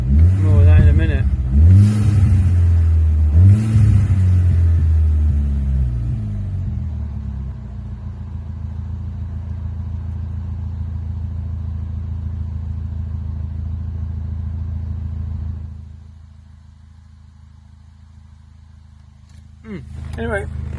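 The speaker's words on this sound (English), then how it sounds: "you can hear the air intake sucking in the air." A Skoda Octavia vRS Estate engine revs and settles into a steady idle, with exhaust rumble and air intake whoosh close by, the sound dropping low near the end before a brief rise.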